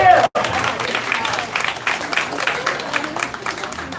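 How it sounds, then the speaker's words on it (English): Sustained audience applause with crowd noise fills the room at a Taiwanese Thanksgiving dinner after a performance, steady dense clapping following a brief dropout near the start. "let's once again give them a big round of applause for their wonderful performance"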